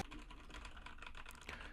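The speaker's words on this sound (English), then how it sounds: "I am currently typing on my keyboard." Steady run of keystrokes on a computer keyboard used for podcast-style recording, quick irregular clicks continuing throughout at low level with no voices over them.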